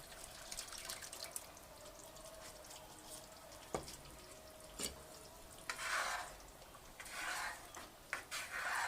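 Yogurt is stirred into egg and potato gravy frying in a pan, giving soft wet sizzling and stirring with occasional clinks of a utensil against the pot. The sound is fairly faint and close, with no talking.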